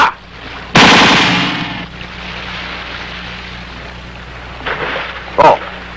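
A machine gun fires one loud, rapid burst lasting about a second in the film Major Napoleon Velasco Kumander Kalbo. A quieter rumble follows, broken later by a couple of short, sharp cracks.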